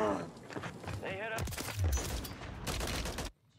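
Enemy light machine gun fire in a shooter game: rapid bursts of loud, close gunshots in quick succession, mixed with a player's excited talking, before cutting to near silence at the end.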